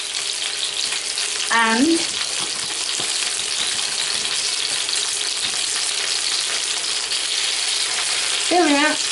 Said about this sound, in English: chicken portions in the frying pan